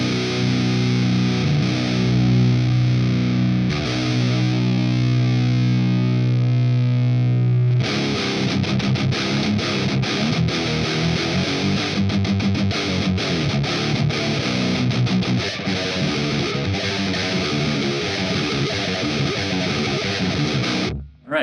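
A thick, heavily distorted metal electric guitar tone plays through an Invaders amplifier cabinet. Sustained low chords ring out first, then give way to fast chugging palm-muted riffing, loud and close, with no voices.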